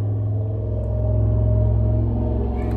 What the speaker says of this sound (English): Y'all, the trucks is riding past